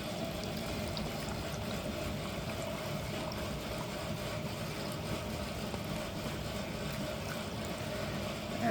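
Water pours steadily into a rock tumbler barrel loaded with crazy lace agate, a continuous close splashing rush that holds an even level throughout.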